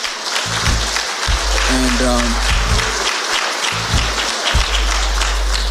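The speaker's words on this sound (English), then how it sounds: "And you should give yourselves an applause." An audience bursts into sustained applause at a Black business gathering, with dense, loud clapping filling the room. Scattered cheers and voices rise over it.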